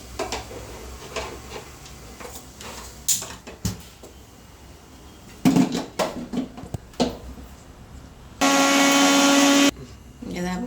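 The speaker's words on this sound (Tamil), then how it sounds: "இதை கிரைண்ட் பண்ணிடலாம். அரைச்சிட்டு வரேன்." An electric mixer grinder blends ingredients into a smooth paste for vegetable biryani, a loud one-second burst of whirring after several clattering knocks as the jar is handled, with a voice talking nearby.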